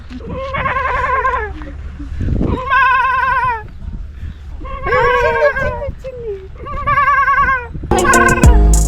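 A goat bleats five times in a row, loud and close, each wavering cry separated by short pauses, with faint background noise.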